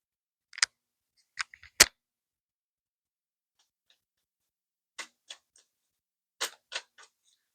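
Tarot cards being shuffled, heard as a few sparse, crisp clicks and snaps in small clusters separated by silence, quiet and close, with no talking.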